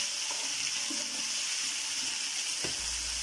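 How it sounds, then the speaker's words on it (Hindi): Water runs or pours steadily into a very large cooking pot while biryani is being made, a continuous close hiss with a few faint clinks and no talk. "ये तो पानी ही है।"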